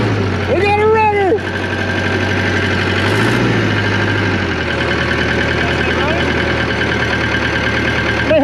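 An old engine running after refuelling, a loud close steady idle with a mid-pitched rumble and some vibration, with voices talking over it.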